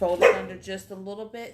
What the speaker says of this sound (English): So when y'all hear a bark in the background